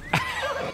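A horse in the Assassin's Creed Odyssey video game lets out a short, sharp whinny that trails into a wavering neigh, fairly close and clear over a faint background.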